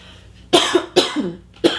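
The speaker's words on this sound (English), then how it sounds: "Now I'm coughing." Three sharp, close coughs in quick succession, each a harsh burst followed by a short rasping tail.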